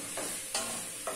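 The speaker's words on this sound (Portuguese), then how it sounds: "É coisar a cebola e o alho, né?" Onion and garlic sauté in a pan, a soft steady sizzle broken by a few quick stirring scrapes.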